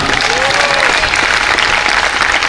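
A church congregation applauding the Lord during a Monday worship service, with loud, dense clapping and crowd noise that fills the whole stretch evenly.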